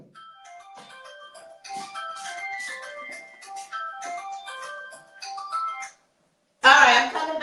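A mobile phone's melodic ringtone plays a repeating tune for several seconds and then stops, followed by a burst of broadband sound.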